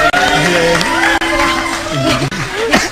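A comedy show audience claps, cheers and whoops for a stand-up comic, a loud, dense roar of crowd voices with shouts rising and falling throughout.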